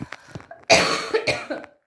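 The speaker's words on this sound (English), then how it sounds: "Not more coughing" A person coughs once, hard and close, after a few faint throat sounds, followed by a brief tail of breathy follow-up coughs.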